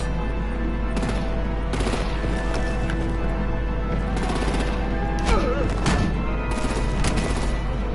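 Gunfire and artillery in the Batman: The Enemy Within game, a dense steady roar of shots and blasts with rhythmic thumping and clattering throughout, with faint voices in the mix.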